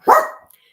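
A single loud, close dog bark from a pet indoors, sharp and short with a quick fade, heard alone without talk.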